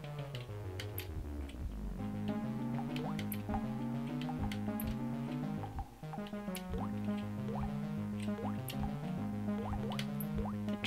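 A treasure pickup effect in a video game that sounds like water droplets, with a steady run of bright plinks and drips repeating over a continuous tonal music bed, no one speaking.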